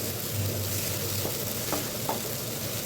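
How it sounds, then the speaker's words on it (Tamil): Onions and tomatoes sautéing for Tamil-style egg gravy, a steady low sizzle and frying hiss with a few soft stirring scrapes of the spoon in the pan, close and continuous without any talk. "இப்போ நம்மளோட வெங்காயம் தக்காளிலாம் நல்லா வதங்கிடுச்சு."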